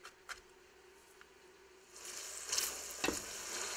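Chopped onions cook in a pan with a faint, quiet sizzle and a few soft clicks and taps, growing a bit louder and brighter toward the end.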